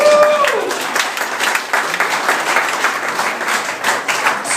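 A small crowd at a beer festival gathering claps and cheers, a lively mix of applause and voices at a fairly loud, steady level throughout.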